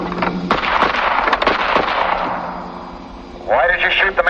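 Gunshots in a 1948 film noir crime drama, several sharp loud cracks in quick succession early on, set among film score and ambient noise, with voices heard later.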